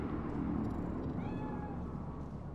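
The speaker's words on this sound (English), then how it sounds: "Do you see it? That cat?" A cat meows in the video game Cyberpunk 2077, a few short rising calls over a steady game ambience, with no talk.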